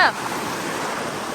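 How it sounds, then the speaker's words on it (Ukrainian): Steady broadband roar of wind and rough stormy sea surf at a beach in Salou, Spain, constant and fairly loud, with a brief voice-like burst at the very start. "вітер сьогодні, бачите, і шторм"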